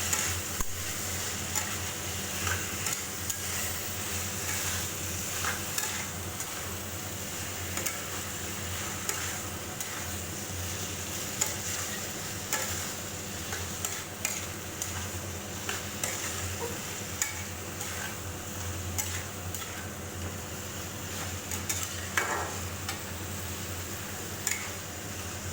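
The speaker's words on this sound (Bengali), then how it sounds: "কেটে রাখা মাশরুমগুলো দিয়ে দিচ্ছি।" Sliced mushrooms fry and sizzle steadily in a pan with spices while being stirred, a continuous close hiss with soft scraping and occasional clicks, no talk.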